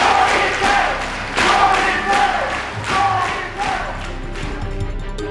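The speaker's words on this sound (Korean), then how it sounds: "사람들의 환호를 받으면서 조이팔이 등장을 했고요" A crowd cheers and roars for Jo Hee-pal's entrance at a company event, rising in loud surging waves with scattered shouts, some voices audible in the mix.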